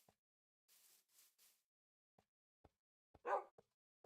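A dog barks in Minecraft modded with Thaumcraft: a few faint, short yips spaced apart against near silence, with soft clicks in between.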